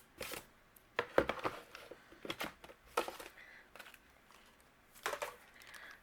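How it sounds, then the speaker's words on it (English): Paper-and-foil sandwich fed through a manual die cut machine for hot foiling, giving a run of crinkly, crackling bursts and rustling clicks, fairly close and quiet, with no talk. "I'll run this through my die cut machine"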